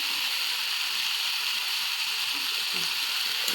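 Taro pieces frying in a pan with salt and turmeric, a steady close hissing sizzle that holds evenly throughout with faint occasional scrapes and no speech.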